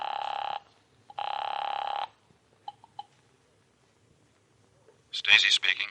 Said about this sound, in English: I found a phone and called Jack Stacy.